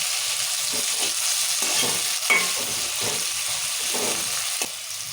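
Tomatoes fry for chicken curry, sizzling steadily in a pan, while a spoon scrapes and stirs them in several short, close strokes over the constant hiss.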